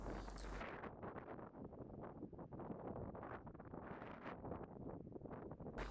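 Steady wind buffets the microphone on a coastal golf course at Torquay, a continuous rough rushing roar with gusty swells that fills the clip without any speech.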